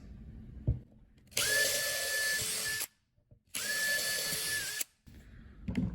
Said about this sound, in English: I then took a drill and I pre-drilled all of the holes.